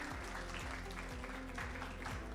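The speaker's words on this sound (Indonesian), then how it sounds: "Tepuk tangan dulu" A group claps together in a steady, dense burst of applause that fills the room throughout.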